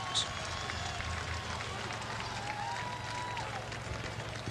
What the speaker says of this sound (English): this crowd making some noise